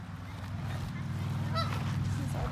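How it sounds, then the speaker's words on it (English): Geese honk steadily in a park, a continuous chorus of nasal calls close by with a low ambient rumble beneath and no talking. "A lot of birdies and geese and ducks."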